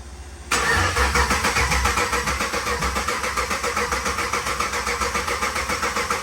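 A cammed 6.0L L76 V8 in a Cadillac CTS-V fires up after a quiet moment and settles into a loud, lumpy, choppy idle with an uneven rhythmic pulse, heard close with no voices.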